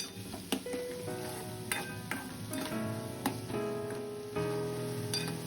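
Spices crackle and sizzle in hot oil, a steady frying hiss with a few sharp pops, heard up close over a faint tonal hum.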